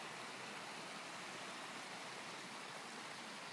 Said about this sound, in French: une cascade dont vous pouvez entendre le son